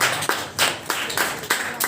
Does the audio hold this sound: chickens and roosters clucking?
no